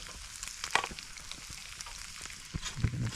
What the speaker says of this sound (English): it's definitely sizzling in a gratifying way